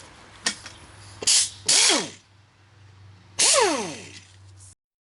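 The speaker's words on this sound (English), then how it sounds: "let's move the bolt for the oil pickup tube" A ratchet backs out the oil pickup tube bolt on a Chrysler 3.5 engine during teardown, heard as a few close, short bursts of rapid clicking separated by pauses.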